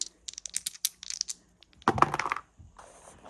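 Dice roll across an AP Games backgammon board with Bakelite checkers, a quick rattling tumble of hard clicks that ends in a short burst of clatter and then settles.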